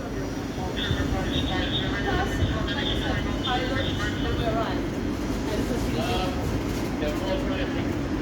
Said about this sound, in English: Train, as approaching right now, is not stopping here. It is a non-stopping Thameslink train.